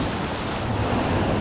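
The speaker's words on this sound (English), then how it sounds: "these last set of waves haven't been too bad" Ocean surf washes against a rocky shore at low tide during a king tide, a loud continuous roar of water and wind close by with no talk.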